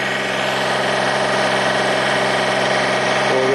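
A snow blower engine idles loudly and steadily during snowstorm cleanup at Holland Cove, PEI. It gives a constant close mechanical drone with no breaks and no voices.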